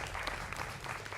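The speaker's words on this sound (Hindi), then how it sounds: "जोरदार तालियों से मेरे युवा मित्रों का भी अभिनंदन है" A television studio audience at a Hindi political debate show claps loudly and densely, a continuous wash of applause from many hands with no break.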